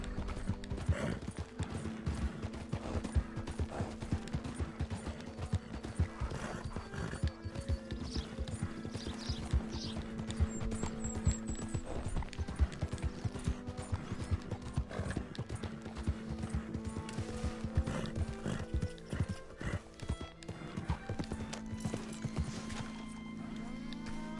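Horse hooves clip-clop in a steady rhythm in the video game Red Dead Redemption 2, over a busy, continuous background, with a brief whinny and faint mechanical clatter mixed in.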